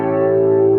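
A single sustained chord rings out as a final Western tonal cadence, a steady rich harmonic tone held evenly for under a second, with no voices.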